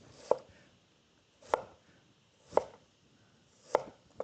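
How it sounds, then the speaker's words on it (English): Knife chopping food on a cutting board, four distinct crisp chops spaced about a second apart, close and clear against a quiet background. "Align them and cut them same size."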